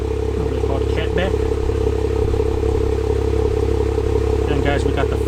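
A rebuilt Jeep Wrangler on 40-inch tires idles with a MagnaFlow catback exhaust, a steady loud low rumble that runs the whole time while someone talks over it.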